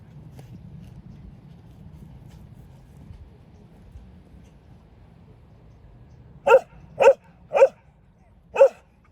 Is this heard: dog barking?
yes